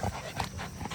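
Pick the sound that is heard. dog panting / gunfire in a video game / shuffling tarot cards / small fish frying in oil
dog panting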